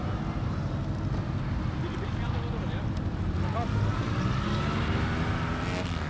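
A powerful Porsche 911 rally car drives past with a rough engine drone and shifting pitch, heard under heavy wind buffeting on the microphone.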